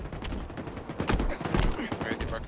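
Rapid bursts of gunfire crackle through a Slayer match on The Pit map in a multiplayer shooter, several shots overlapping in a dense, continuous clatter.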